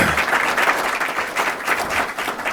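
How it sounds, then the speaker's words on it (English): Steady applause from an audience at a summit on Hispanic wealth, honoring the NAREP leadership: a full, even patter of many hands clapping, moderately loud and close, with no voices over it. "So let's give them a big round of applause."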